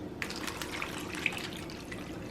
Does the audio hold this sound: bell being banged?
no